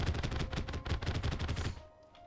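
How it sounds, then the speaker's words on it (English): A light beam fired by the Pika fruit ability in a Terraria One Piece mod, heard as a dense rapid crackling burst that fills most of the stretch and then cuts off to near silence, with a faint lingering tone. "is just shooting a like little beam of light"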